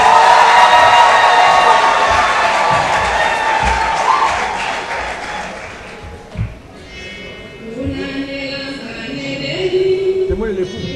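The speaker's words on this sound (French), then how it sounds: "Recevez les mariés avec un tonnerre d'applaudissements" A wedding crowd at a town hall claps and cheers, loud at first, then the applause tapers off into murmuring, thumps and people talking.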